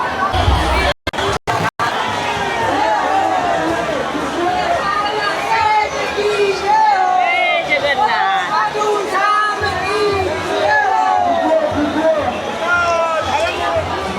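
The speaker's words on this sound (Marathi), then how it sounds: "एवढी भयंकर गर्दी आहे" Dense, loud crowd at the ISKCON Mira Road Jagannath Rath Yatra festival, with continuous overlapping chatter, shouts and chanting voices close around, unbroken throughout.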